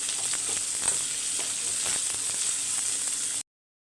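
Chopped onion fries in hot oil with a tempering of mustard seeds, chana dal, urad dal, dried red chillies and curry leaves, giving a steady close sizzle broken by faint stirring scrapes, ending abruptly.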